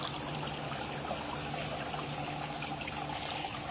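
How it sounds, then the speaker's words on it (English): Water trickles steadily from a small decorative waterfall on a deck, making a continuous light splashing with a faint hiss, close by and with no voices. "With my spiffy little waterfall that I bought with my wood stove money"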